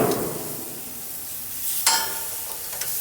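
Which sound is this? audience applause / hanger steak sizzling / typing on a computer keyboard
hanger steak sizzling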